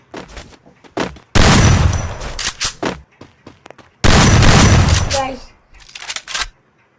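Two long, loud bursts of sustained automatic gunfire from a mobile shooter game with the fire button held down, each lasting a couple of seconds, with scattered single shots and short game sounds in between.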